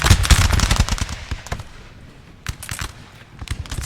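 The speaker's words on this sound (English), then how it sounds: "Some volleys starting to go off." Musket volleys crackle in a Napoleon Total War multiplayer battle at a frozen river crossing: dense, rapid overlapping gunfire, loud and continuous at first, thinning out, then a fresh burst of shots.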